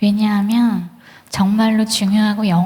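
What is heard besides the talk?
None of the usual background noises is heard.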